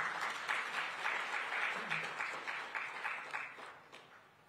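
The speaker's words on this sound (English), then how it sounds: "let's kick start it with a huge round of applause for all the green champions here." Steady crowd applause with many hands clapping at once, fairly distant and even, slowly fading toward the end.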